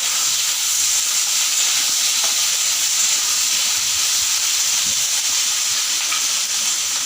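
Eggplant frying in hot oil in a village kitchen gives a steady, bright hiss and sizzle, continuous and fairly loud throughout with no talking.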